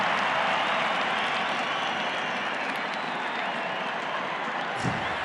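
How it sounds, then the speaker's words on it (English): Rugby stadium crowd at a Super 14 match between the Force and the Reds in 2007, cheering and applauding in a dense, steady roar heard at a distance throughout. "The crowd's cheering because he's on the big screen now."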